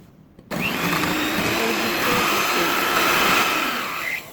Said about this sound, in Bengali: এখন তেল দিচ্ছি ওয়ান ফোর্থ কাপ আবার দুই তিন সেকেন্ড বিট করে নিচ্ছি